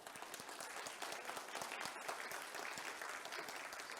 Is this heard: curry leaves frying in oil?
no